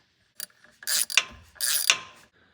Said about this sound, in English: Grab one of the bolts off your other turbos, stick it in there, and we'll use our Torx.